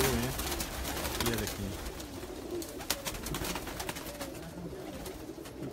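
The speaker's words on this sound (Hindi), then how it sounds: "इतने कबूतर हैं पकड़ पकड़ के नहीं दिखा सकते हो" Many pigeons coo continuously in a low, rolling chorus close by, with steady background noise and occasional sharp clicks and flutters.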